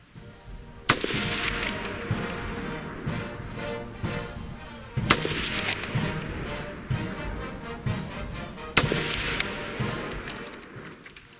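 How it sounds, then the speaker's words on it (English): A No 1 Mk III* Short Magazine Lee-Enfield (SMLE) rifle fires three sharp, loud shots at regular intervals of about four seconds, each followed by bolt-working clatter and echoing decay outdoors. "Enemy in left-hand window. 3 rounds rapid. Fire."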